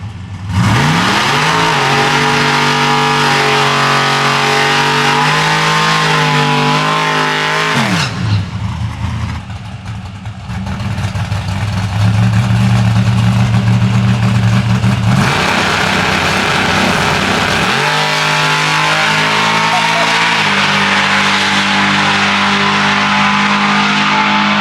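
Chevrolet Corvette Z06 at a supercar drag racing meet, loud engine revving and exhaust roar with rising and falling pitch, a brief dip and then sustained heavy droning throttle, close by, no talk.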